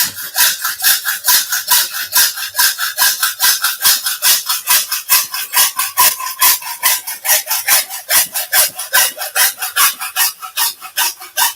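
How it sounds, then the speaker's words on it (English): A hacksaw cutting through a 3D printed plastic part, brisk regular back-and-forth strokes rasping close and loud, about four strokes a second, steady throughout with no talking. "So I'm just going to cut this down with my hacksaw."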